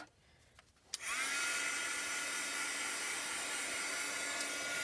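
A hair dryer switches on after a brief click and runs steadily with a loud, constant whooshing roar, drying paint on a DIY tiered tray.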